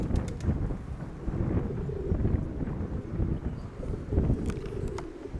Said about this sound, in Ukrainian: Вітерець трохи сильнувати сьогодні